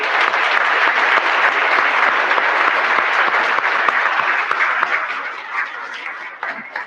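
Audience at a school awards ceremony claps loudly and steadily, a dense burst of many hands that thins out near the end.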